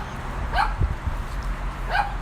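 A dog barks twice, about a second and a half apart, at moderate distance against a steady background rumble, with no talking.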